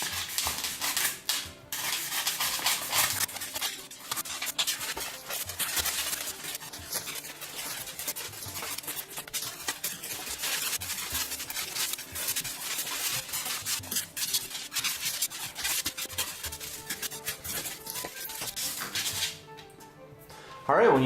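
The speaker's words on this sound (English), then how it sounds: "let's just take out our X-Acto knife, put it out as far as it can go, and just start to shave off the edges as we begin to cut" X-Acto knife blade extended fully and shaving the edges of a styrofoam block, a steady close scraping and rubbing that runs almost continuously, with a louder bump at the end.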